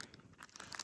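Someone chews a waffle, egg, sausage and cheese sandwich up close, with soft crunchy, crinkly bites in a quick uneven run and no talking.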